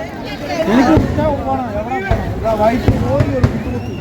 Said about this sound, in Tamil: இது ரெண்டாவது நெம்மார வெடி